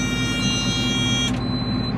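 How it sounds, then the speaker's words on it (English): An equipment warning buzzer signals that a bucket has come uncoupled, a steady electronic drone over engine hum that cuts off after a little more than a second, followed by a thinner tone. "that other one should have had a little buzzer like that warning you that, that the bucket was uncoupled"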